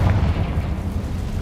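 A Confringo blasting spell explosion in Hogwarts Legacy gives a dense, loud, low rumbling roar that holds steady throughout, close and alone with no voices.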